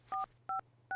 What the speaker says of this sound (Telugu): ఫోన్ చెయ్యి. త్వరగా చెయ్యిరా.